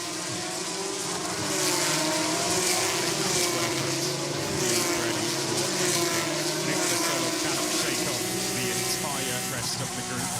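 Formula 3 race cars in qualifying at Monza for the 2025 Italian Grand Prix give a steady, droning engine whine that holds throughout, with commentary running over it.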